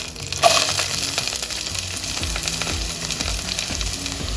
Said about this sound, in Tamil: சின்ன சின்னதாக சாப் பண்ண வெங்காயத்தை போட்டுருவோம்